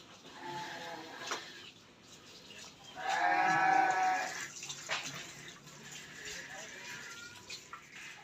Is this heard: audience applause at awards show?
no